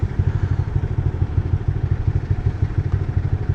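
A motorcycle used for daily riding rumbles close by on the road, its engine throbbing in a steady low pulse with a faint clattering, and no speech is heard.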